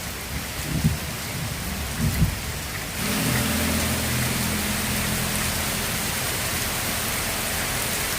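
Steady evening rain pours down hard with deep thunder rumbling underneath, starting after a few soft thuds and then holding as a dense, loud wash of rainfall close by.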